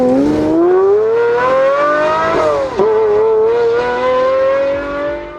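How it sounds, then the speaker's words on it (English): A Pagani Zonda with a Mercedes-Benz V12 screams close and loud, its engine note climbing steadily through the revs, dipping briefly at a gear change, then pulling up again. "when that exact same engine was placed in the Zonda, it transformed the car into a screaming monster."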